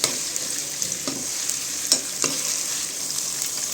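Ginger garlic paste frying with onions in a pan for mutton curry, a soft steady sizzle with a few light stirring scrapes, close and without talk.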